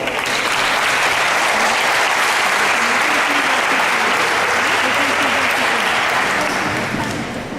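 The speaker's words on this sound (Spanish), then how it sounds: "le brindamos un aplauso" Audience applause welcomes a speaker at a university environmental management forum: dense, steady clapping from a full room, loud and sustained for about seven seconds before easing slightly at the end.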